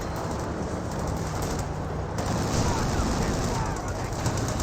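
Gunfire rakes Panzer Grenadiers in a World War II strategy game: a steady, dense crackle of small-arms fire with a loud, close burst about halfway through, over continuous battlefield noise.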